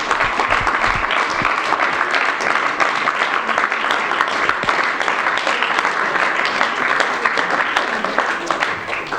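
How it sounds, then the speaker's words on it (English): An audience applauds the players after the women's final of the 2018 IPA World Pool Championships, with sustained, dense clapping from a sizable crowd at steady volume that eases slightly at the end. "a round of applause for both players please"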